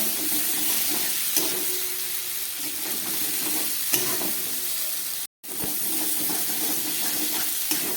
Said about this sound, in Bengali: জিরে বাটা, ধনের গুঁড়ো, হলুদ, নুন, আদা সব কিছু দিয়ে খুব ভালো করে আমি সবজিগুলোকে কষিয়ে নিলাম